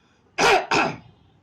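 Someone clears their throat loudly and close up in two quick harsh bursts, then quiet follows.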